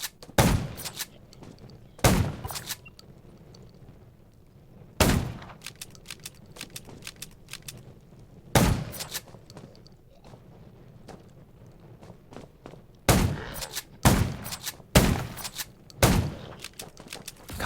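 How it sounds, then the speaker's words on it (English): Gunfire in the Android zombie game Undawn cracks out in sharp bursts, single shots and quick clusters spaced irregularly over a quiet low background, no talk. "Gunshots will attract more zombies."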